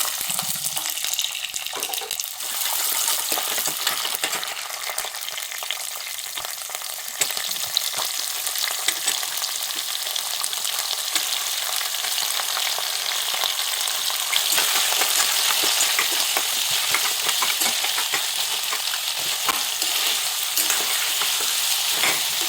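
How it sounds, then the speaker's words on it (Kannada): Mustard seeds spluttering in hot oil for tempering, a continuous crackling sizzle with dense popping, steady and loud throughout. "ಸ್ವಲ್ಪ ಸಾಸಿವೆ ಹಾಕ್ಕೊಳ್ಳೋಣ. ಸಿಡಿತಾ ಇದೆ ನೋಡಿ."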